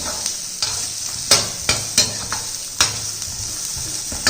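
Beans, green peas and diced carrot stirred and sautéed in a pan, with a steady sizzle and several sharp scraping strokes of the spoon at irregular intervals, close and loud with no talking.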